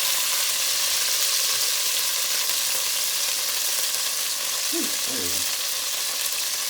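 Vegetables and dried chili pods stir-frying in a hot pan with soy sauce give a loud, steady sizzle and hiss, with a brief voice murmuring faintly underneath.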